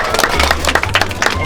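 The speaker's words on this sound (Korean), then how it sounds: "박수 한번 주세요." Audience applause at a youth employment event, a dense burst of many hands clapping close by, steady and loud throughout, with a low hum beneath.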